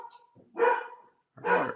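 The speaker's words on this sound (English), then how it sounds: "in case you hear her barking" A family dog barks twice indoors in the background, two loud separate bursts with a short quiet gap between them.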